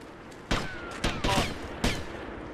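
Gunfire in the video game GTA Vice City: four sharp, loud shots in an irregular volley, with a whistling ricochet-like streak after the first, over a steady game background hum.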